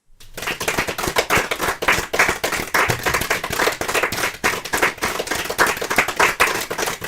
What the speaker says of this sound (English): That is a very normal applause.